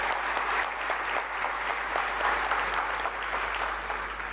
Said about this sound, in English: I believe we can clap a little louder